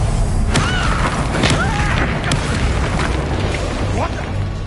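The Confringo fire-blast spell in a Hogwarts Legacy duel: dense, continuous booming and crackling impacts with whooshing bursts, loud and close, while voices shout through the fight.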